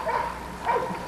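An American Bulldog lets out a couple of quick, mid-pitched barks or yips close by, with a brief pause between them, fairly clear against faint background noise.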